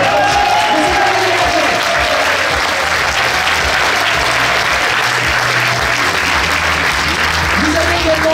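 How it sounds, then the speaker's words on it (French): A political rally crowd gives the mayor of Clamart loud, sustained applause, with dense clapping filling the hall throughout and a voice speaking over it through the PA. "je vous demande de faire un tonnerre d'applaudissements pour le maire de Clamart"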